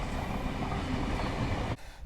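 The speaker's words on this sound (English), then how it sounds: "I'll just let this train go past." A train passing nearby, steady rumbling wheel and carriage noise that cuts off abruptly near the end, heard alone.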